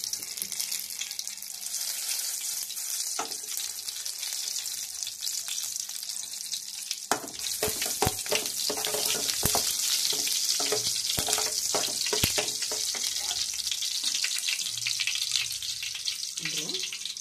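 Butter goes into hot oil in a kadai and sets off a loud, crackling sizzle that swells partway through, with bursts of spattering and a faint wash of running water behind.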